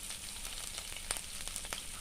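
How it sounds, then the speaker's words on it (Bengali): Spices fry in a pan for prawn and gourd curry, giving a quiet, steady sizzle with a few faint clicks of a utensil. "এবার আমি সব মশলাগুলোকে একটু ভালো করে কষিয়ে নিচ্ছি"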